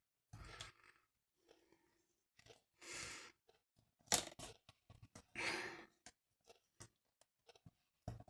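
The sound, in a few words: peeling backing off adhesive tape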